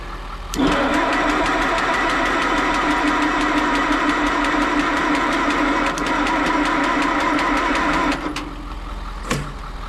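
A car engine cranks and catches with a mobile jump pack connected and a little throttle applied, running with a steady rough mid-pitched drone for about eight seconds before cutting off, followed by a single sharp clunk.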